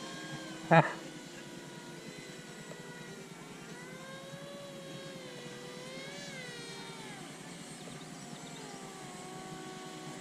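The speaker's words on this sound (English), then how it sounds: "And that's a racer airplane." Durafly EFX Racer RC airplane flying in a combat streamer-cutting session, its motor a steady whine that rises and falls in pitch as it passes, with a brief sharp bump near the start.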